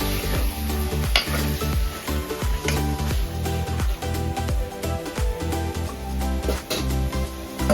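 Mutton pieces fry in oil over a high flame, a steady loud sizzle broken by repeated stirring scrapes and clatter against the pan, close and continuous with no voices.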